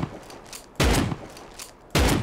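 Two loud, booming shotgun blasts in the video game Rust, spaced about a second apart, each with a short echoing tail over a quiet background hum.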